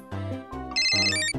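A cartoon telephone rings with a bright electronic ringtone, a few repeated melodic bursts close and loud with no talking, in the Tobot animated series.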